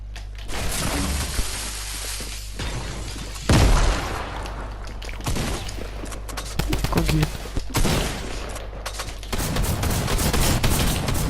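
Video game gunfire crackles through the stretch in repeated bursts and rapid volleys with a few heavier booms, while a player talks over much of it.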